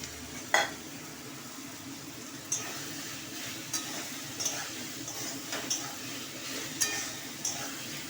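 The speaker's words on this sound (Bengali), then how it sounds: "মশলাটা কষাচ্ছি, সাথে আলুগুলো দিয়ে দিই এবার।" Spiced masala being fried down with potatoes for aloo dum: a faint sizzle underneath a series of light metallic ticks and clinks from a spoon against the pot, spaced irregularly.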